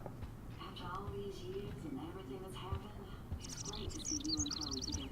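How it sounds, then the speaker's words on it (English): Small songbird chirping in the video game Life is Strange, a few faint high tweets near the end over a steady low game ambience with talking underneath. "Oh, that's the bird."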